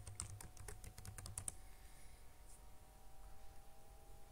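A password is typed on a computer keyboard: a quick burst of about a dozen close, light key clicks in the first second and a half, then quiet room tone.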